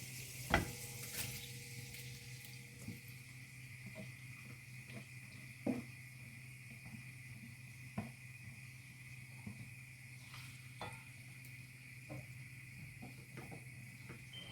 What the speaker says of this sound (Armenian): հիմա հալված այս կարագի վրա կլցնեմ լավ ջրքամված կանաչ լոբին